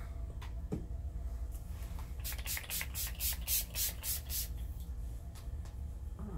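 A rapid series of short spray pumps, about seven or eight hissing bursts in quick rhythm, close and moderately loud, with a few faint taps around them.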